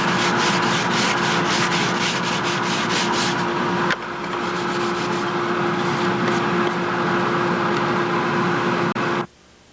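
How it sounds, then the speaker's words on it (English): Steady abrasive rasping of a sanding bench working wood, loud and continuous, with a brief shift partway through before it cuts off at the end. "I never get sick of using this sanding bench."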